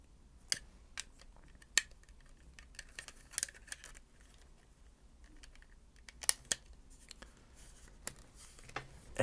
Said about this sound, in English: And then you just click the sides back on.